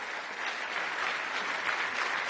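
Steady audience applause fills a hall at the Bled Strategic Forum, an international leaders' debate on Europe's future, a dense even wash of many hands clapping at moderate level with no talk over it.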